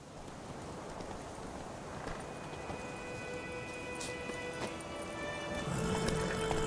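Roach, Geralt's horse in The Witcher 3, gallops with a steady clip-clop of hooves over a constant ambient bed of wind and rustling, occasional faint sharp accents breaking through near the end.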